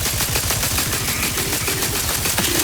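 Rapid automatic gunfire in The Outer Worlds 2 rattles without pause, a dense, loud stream of closely spaced shots with a few brief tonal game sounds over it.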